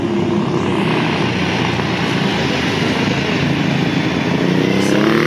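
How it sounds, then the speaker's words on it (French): Vintage motorcycles race past, among them a Ducati 916, a Norton Commando, a Kawasaki and a Honda 750, at a motorcycle gathering in Fontainebleau. Their engines make a loud, continuous roar that holds steady throughout. "Ducati 916 est en tête, suivie par la Norton Commando, la Kawasaki et la Honda 750."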